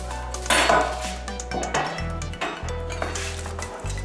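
Metallic clanks and scraping as a freshly baked Victoria sponge cake is set onto a wire cooling rack, several close knocks against the metal with a low kitchen hum beneath.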